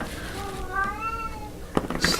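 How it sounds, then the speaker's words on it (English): A male house cat gives a drawn-out, rising and falling meow in a quiet room, clear and fairly close, followed by a few brief soft knocks and rustles. "That's my cat doing his morning call."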